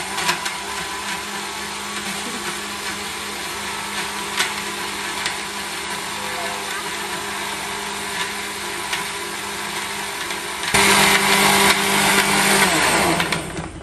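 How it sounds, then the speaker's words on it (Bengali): Kitchen blender whirring through bananas, a loud steady motor drone throughout that jumps up in pitch and volume near the end as the speed increases. "তো লেটস ব্লেন্ড ইট।"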